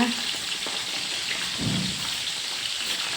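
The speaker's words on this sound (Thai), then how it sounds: "ทอดปลาทูแป๊บเดียวก็ได้กินแล้วนะคะ" Small mackerel frying in hot oil, a dense, steady crackling sizzle heard close up throughout, with a low bubbling swell near the middle.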